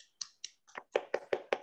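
A small group gives a presenter named Franto a few sharp, separate claps, starting sparse and quickening into a short, fairly loud burst.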